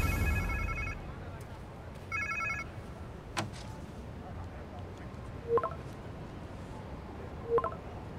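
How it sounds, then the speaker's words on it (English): A phone rings in the Spider-Man 2 video game in two short electronic bursts, one near the start and one a couple of seconds later, over a low game ambience with a few faint chimes later on. "Sounds like somebody's phone."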